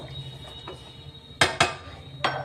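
A metal lid settles onto a pot of sweet pulao with a few sharp clinks, two close together and a third a moment later, over a quiet kitchen hum.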